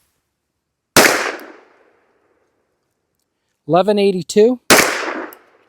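An FN 510 Tactical 10mm handgun, loaded with heavy 220-grain full-power rounds, fires two loud, sharp shots about four seconds apart, each decaying quickly into silence; a voice speaks briefly between them.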